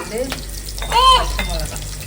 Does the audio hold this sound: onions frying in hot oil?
yes